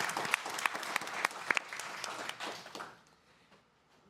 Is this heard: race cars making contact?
no